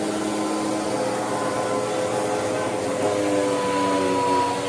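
A vacuum cleaner runs steadily throughout, a loud constant whirring drone with a high motor whine and no pauses.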